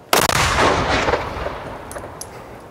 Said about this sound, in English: And number four, the gun captain, gives the command to fire and fires the piece.